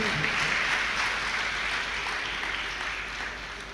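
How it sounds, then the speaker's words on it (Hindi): Scattered clapping from a few people in an audience at a religious discourse, soft and fairly distant, a thin patter that fades slightly toward the end. "देखो तालियां भी 1-2 बजा रहे"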